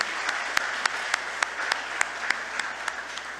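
Audience at a People's National Movement political launch in Belmont claps steadily, a continuous wash of applause with sharper individual claps popping out at a regular pulse, moderately loud and without talk.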